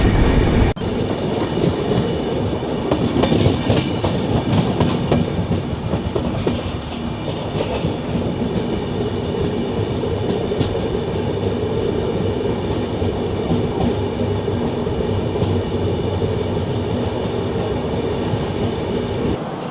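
A passenger train on the Kolkata to Kalka route running on rails, heard from inside the carriage as a loud continuous rumble with rhythmic clickety-clack and a rattling burst early on, no speech.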